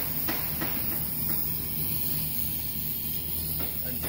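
Carbon arc gouging along a cracked weld joint gives a continuous rough hiss and roar, with a few brief crackling bursts, steady and close with no talk.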